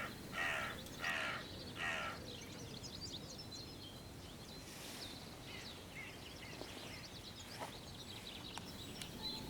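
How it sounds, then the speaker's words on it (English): Hooded crows cawing in a spring dawn chorus: a few harsh caws in the first two seconds, then quieter distant caws amid chirping songbirds, all at a fair distance. "Just when I'd given up on the hooded crows, they decided to make an appearance."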